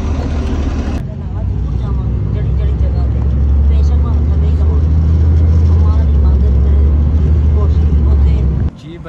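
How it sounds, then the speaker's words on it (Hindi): Inside a moving car or bus on the road toward Aisha Mosque, a steady low engine and road rumble runs throughout, loud and continuous, with a sharp cut near the start and end. "तो हम बैठ चुके हैं गाड़ी में और काफ़ी सफ़र भी तय कर लिया है"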